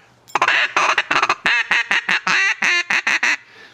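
A duck call played on a howler call sounds a fast run of raspy, buzzy quacks, loud and close, in an evenly paced sequence that tapers off at the end.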